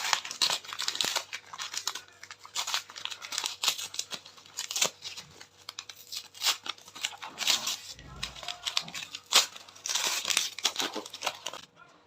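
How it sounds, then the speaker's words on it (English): Plastic packaging for an art fixative spray crinkles and tears as it is unboxed, a steady run of close, crisp crumpling and rustling bursts with no talking. "So today we are going to unbox Fixative spray."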